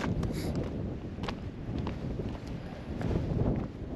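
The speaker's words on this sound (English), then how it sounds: "So the wind is pumping." Wind gusting across an open hillside trail on Knocknarea in Ireland, a steady low rumbling buffet with gusty swells, close and loud against the microphone.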